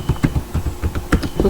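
A password is typed on a computer keyboard as a quick, uneven run of soft keystroke clicks, heard close and alone.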